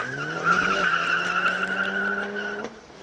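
BMW E90 race car on a hill climb qualifying run at Speed Classic Cape Town, engine note held high with tyres squealing steadily through a corner for a few seconds before cutting off abruptly, heard from fairly close.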